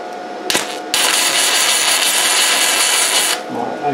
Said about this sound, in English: Let's weld the other side.